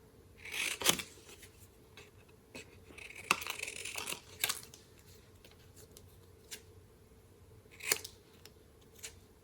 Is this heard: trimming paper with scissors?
yes